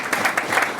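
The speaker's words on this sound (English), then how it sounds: "Please give Marie a round of applause" A brief burst of clapping rises from the audience at a memorial lecture on Black British history, a dense and fairly loud patter of hands.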